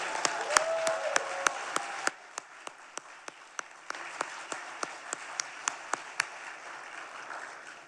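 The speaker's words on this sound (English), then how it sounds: "so let's give them another round of applause." Scattered, thinning applause from an audience at the Duluth State of the City 2023 address, with sparse individual claps spaced out in a quiet hall after a brief fuller burst at the start.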